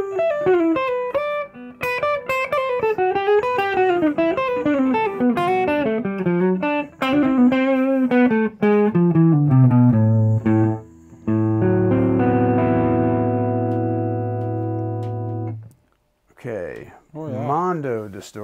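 Clean electric guitar melody from a 2019 Gibson Les Paul Traditional on the neck pickup, warm, round tone, single notes descending into sustained low chords, played close with light effects and no talking.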